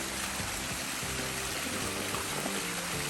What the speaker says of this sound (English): Here's a beautiful fountain, as you can hear it flowing, that I love